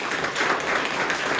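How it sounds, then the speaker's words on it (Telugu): Audience at a sermon gathering clapping loudly together, a thick, continuous burst of many hands applauding with no pause. "ఒకసారి గట్టిగా చప్పట్లు కొడదామా?"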